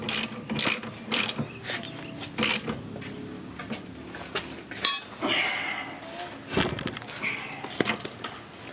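A ratchet clicks in short repeated bursts while tightening Fortune Auto coilovers on an R32 Skyline GTR, with metallic clinks of tools and parts nearby and occasional talk in a garage.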